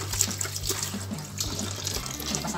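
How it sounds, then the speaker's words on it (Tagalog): Water runs from a tap into a sink in a home during laundry, a steady close splashing stream that continues unbroken throughout, with no speech. "Lubos ko sa lababo yung tubig."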